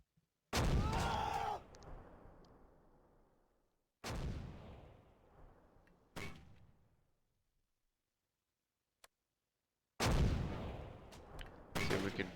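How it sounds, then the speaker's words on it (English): Mortar shells land in a war video game, four heavy booming impacts spaced a few seconds apart, each with a sharp blast and a long rumbling decay, plus a faint click between them. "Mortars are starting to hit."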